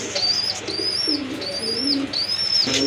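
A pair of red Jak pigeons coo in low, rolling repeated phrases, close and steady, with thin high bird chirps running over them throughout.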